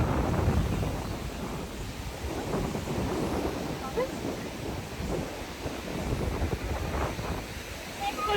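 Powerful ocean surf pounds a local Seychelles beach, a loud, continuous rumbling roar with wind buffeting the microphone.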